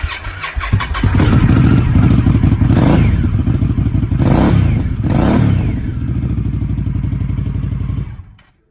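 A 2019 Indian Scout Bobber motorcycle fitted with an Indian Performance Upgrade exhaust starts up and idles loudly with a deep, steady rumble. Two sharp throttle blips rise out of the idle before the engine cuts off abruptly near the end.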